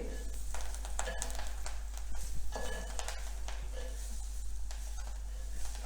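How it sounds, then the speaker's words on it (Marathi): Chickpea greens sautéed in a pan with cumin and chillies, steady sizzling with repeated scraping and clinking of a spoon stirring against the pan, close and continuous over a low hum. "आता त्यामध्ये आपण ही भाजी घालायची भाजी चांगली परतून घ्यायची"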